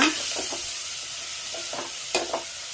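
Tomatoes frying in a pan for rasam, a steady hiss of sizzling oil with several soft scraping strokes as a spoon stirs and mashes them, close and alone.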